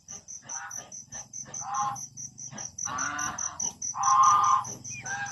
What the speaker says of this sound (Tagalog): Ingay ng gansa. Ayun, gansa oh.